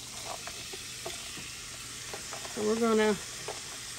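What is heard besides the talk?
red onion, green pepper and garlic sauteing in bacon grease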